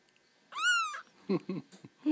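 A gray kitten gives one clear, rising-falling meow at close range, followed by soft murmured voices.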